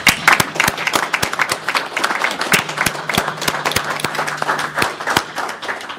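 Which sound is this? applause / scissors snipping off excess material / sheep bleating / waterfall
applause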